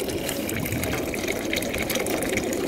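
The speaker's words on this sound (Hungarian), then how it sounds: "Rányítunk nekik, hogy hallják, hogy csobog." Water splashes and trickles steadily into pigeon drinkers at a racing pigeon loft, a close, continuous gushing wash with no pauses.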